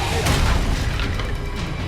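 A Confringo spell explodes in Hogwarts Legacy, a loud, dense booming burst with crackling debris that fills the whole short moment at close range.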